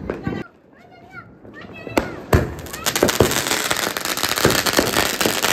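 Diwali firecrackers go off in a family courtyard, sharp bangs and crackling bursts at close range at about two seconds and later, amid children's excited chatter and shouting throughout.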